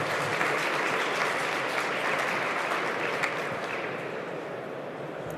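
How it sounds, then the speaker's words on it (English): A conference audience at a wind energy opening session in Bilbao gives a round of applause after a painting presentation, steady and full for several seconds, easing slightly toward the end. "Round of applause, everybody."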